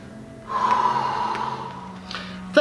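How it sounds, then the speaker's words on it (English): One long, audible breath out through the nose and mouth during a basic mat exercise class, close and steady, ending in a sharper puff. "Inhale and exhale."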